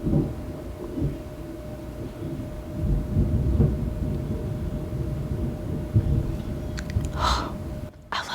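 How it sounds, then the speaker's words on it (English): Low, rolling thunder rumbles on for several seconds, swelling and fading at a distance, with a few brief higher noises toward the end. "The sound of thunder."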